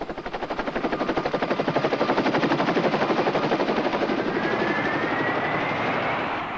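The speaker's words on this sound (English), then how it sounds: "This army helicopter just dropped in for a quick drink of fuel." An army helicopter at Manchester International Airport beats its rotor in a fast, rhythmic chop, loud and close, swelling then holding steady with a faint whine above, and no voices.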